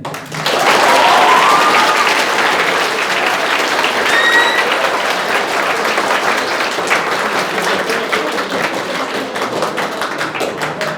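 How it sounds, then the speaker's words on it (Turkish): Loud, sustained applause from an audience at an author's meeting with students, a dense wash of clapping that swells quickly and carries on steadily until the end. "Özellikle de büyük bir alkış istiyorum Bünyamin Gönen için."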